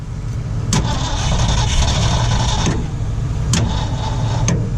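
A 1979 Ford F250 truck in restoration cranks over on a start attempt with the throttle floored: a loud, steady grinding engine turnover with a few sharp clunks and no catch.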